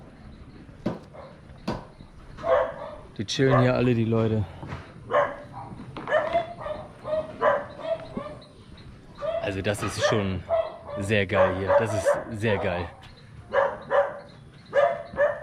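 A dog barks in short, scattered bursts in a riverside slum in Belén in the Peruvian Amazon, mixed under near, continuous conversation between people.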